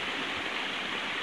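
A river runs near a waterfall on a two-hectare farmlot in Calauag, Quezon, giving a steady, loud, close rush of water that fills the short stretch with no pauses.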